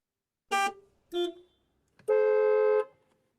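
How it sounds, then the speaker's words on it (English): Car horns honking outside in traffic: two short, loud toots followed by one longer sustained blast, with no talking. "the sound of traffic from outside."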